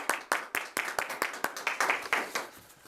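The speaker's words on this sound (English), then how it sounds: "From those present, a round of applause for Rosalie," An audience applauds an award recipient at a chamber of commerce meeting, with a brief burst of brisk, fairly close hand claps that thin out slightly toward the end.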